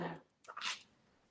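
One quick sneeze sounds in an interview setting: a brief breathy intake, then a sharp hissing burst that fades fast.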